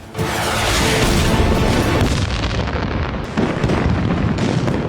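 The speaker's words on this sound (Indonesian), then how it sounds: "Tapi yang keluar justru kembang api." Fireworks go off in a loud, continuous barrage of booms and crackling bursts that fills the whole stretch without a pause.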